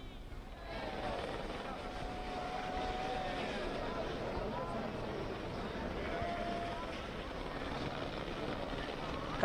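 A helicopter flies over Badrinath temple, showering flowers as the shrine doors open, a broad engine and rotor roar that rises and holds while a crowd murmurs underneath.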